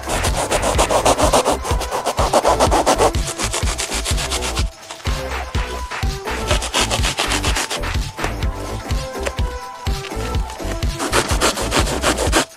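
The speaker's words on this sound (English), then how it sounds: "use this bread knife, please don't tell my wife, to make a number of horizontal slices and then cut them out" A bread knife saws repeatedly through Miata seat foam during a DIY seat modification, giving a steady run of close, loud rubbing and rasping strokes with short pauses between passes.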